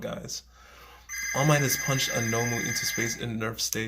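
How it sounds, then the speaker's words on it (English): A telephone rings in the background with a sustained electronic ringing tone that starts partway through and continues underneath a man's steady, close talking. "I'm sorry about the phone in the background,"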